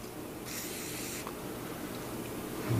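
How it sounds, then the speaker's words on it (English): Cleaner sprays onto the carbon-fouled magazine tube of a Browning Silver semi-automatic shotgun in a single short hissing burst, close and fairly quiet against a steady background hiss. "Let's just spray that again."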